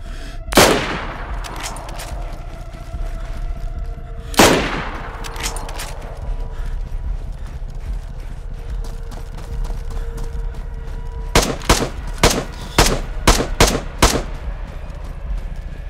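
Gunshots in the survival video game DayZ during a snowy blizzard: two loud, separate reports with ringing tails a few seconds apart, then after a pause a rapid string of about six sharp shots over a constant windy background.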